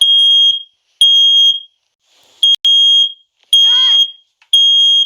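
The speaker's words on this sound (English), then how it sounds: "This alarm can't be silenced. Smoke levels are too high." A second-generation Nest Protect smoke alarm sounds loud, piercing beeps in repeated bursts about a second long, very close, with a brief voice cutting in between the tones.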